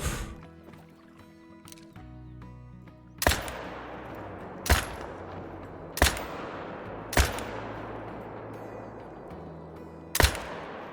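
Rifle fire in the hunting video game Call of the Wild, multiplayer: five loud, sharp gunshots, each ringing out and decaying, spaced roughly a second or more apart over a faint game ambience.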